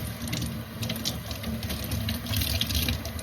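Steady tap water runs and splashes in a sink as freshly dyed tie-dye shirts are rinsed, a continuous close hiss and gurgle with no voices.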